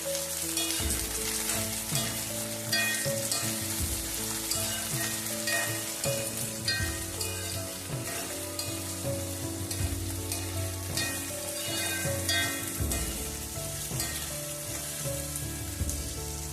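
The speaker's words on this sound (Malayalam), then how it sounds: "ഇനി ഇത് നന്നായിട്ട് നമുക്കൊന്ന് വഴറ്റിയെടുക്കാം." Green chillies sautéing in oil with turmeric for a homemade white lemon pickle, a loud dense crackling sizzle throughout, with steady spattering pops and occasional stirring scrapes, heard up close with no voices.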